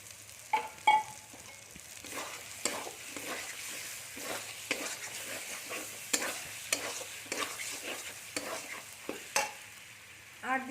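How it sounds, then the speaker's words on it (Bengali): A spoon scrapes and stirs repeatedly in a pan while potatoes and kidney beans sizzle steadily underneath, no voices present. "আমরা এবার ভালো করে কষিয়ে নিই"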